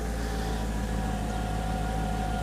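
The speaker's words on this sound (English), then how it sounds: "as you saw, the car is running well" Steady idle of a 2005 Mercedes-Benz C55 AMG with the M113 V8, running just after a valve stem seal replacement, a constant close drone with a faint whine and no voices.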